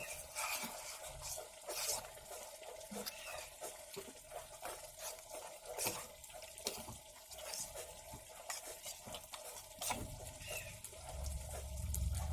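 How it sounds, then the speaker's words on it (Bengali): Rice flour and water are stirred together into a paste, giving a close, wet, rhythmic scraping and sloshing that repeats steadily in a bowl without talking. "ভালো করে জল দিয়ে গুলিয়ে নেবো ভালো করে গুলিয়ে নিয়ে আমি এটা লাউ শাকের মধ্যে দিয়ে দেবো"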